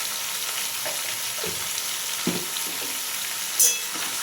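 Ground spices with turmeric and coriander powder being stirred and fried in a pan for a vegetarian pui shak dish, a continuous sizzle with several soft scraping strokes and a brief metallic clink near the end.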